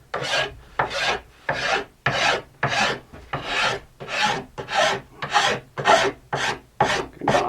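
A file rasps along the fiberglass sidewall of a sandwich alpine ski in steady back-and-forth strokes, about a dozen rhythmic scrapes close to the mic with no talking.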